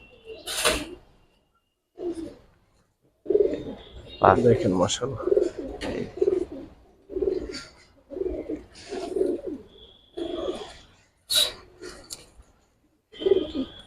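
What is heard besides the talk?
silver and red khaki fighter pigeons cooing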